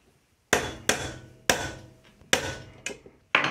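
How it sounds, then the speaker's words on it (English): A hammer taps a nail to drive out the hinge pin of a cigar box, six sharp close metallic raps in uneven succession, each with a short ringing decay. "give it a couple of raps with the hammer"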